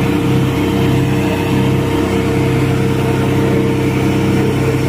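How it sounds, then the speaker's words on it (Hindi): A tractor engine at a tractor race drones steadily with a deep, even hum and mechanical rumble, loud and continuous without pauses. "अभी सेकंड ट्रैक्टर आया भाई इनका"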